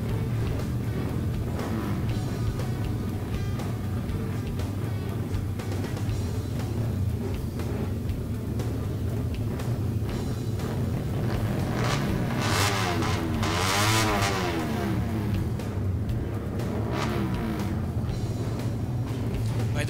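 Group of underbone motorcycles such as the Suzuki Raider 150, Yamaha Sniper 150 and Honda R150 lining up for a track practice session, engines idling and revving steadily at mid distance with occasional louder passes, a commentator's voice over them.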